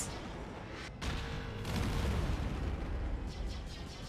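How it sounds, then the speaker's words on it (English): A seismic charge explodes in LEGO Star Wars: The Skywalker Saga, a loud, sustained rumbling blast with a heavy low roar that swells and stays dense for several seconds. "Seismic charge. Brace!"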